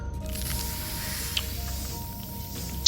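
First aid spray in Memories of Mars, a steady hiss lasting a few seconds, close and fairly loud, with a sharp click at the start and another near the end.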